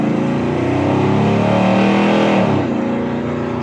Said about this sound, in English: the exhaust, you guys can kind of listen a little bit, but I like the exhaust coming out the side